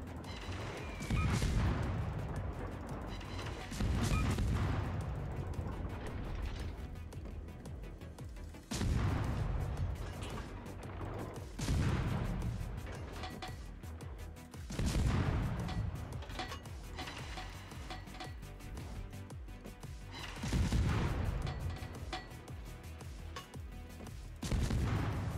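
Main guns of the American Tier VII destroyer USS Mahan firing in the naval game World of Warships, heavy booming salvos every few seconds that are loud and close, each with a rolling decay.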